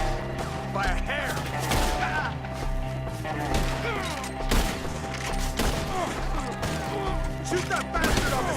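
Gunfights in Red Dead Redemption 2: volleys of rifle and pistol shots crack repeatedly through a busy outdoor skirmish, with overlapping bursts and shouted voices calling out over the din throughout.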